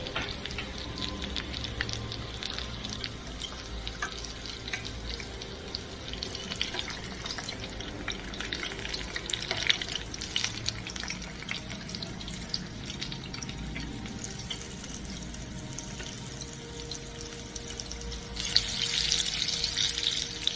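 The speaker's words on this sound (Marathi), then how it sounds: "आता ही दुसरी बॅच पण आपल्याला छान तळून घ्यायची आहे।" Ridge gourd bhaji deep-frying in hot oil, a steady crackling, bubbling sizzle that runs unbroken throughout, close and even in level, with no speech.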